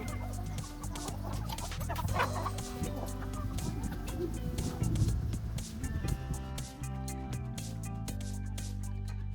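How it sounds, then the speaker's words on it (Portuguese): A black hen clucks on a farm in repeated short calls amid background farmyard noise, fairly close and moderately loud. "Ô, galinha. Galinha. Foi essa preta."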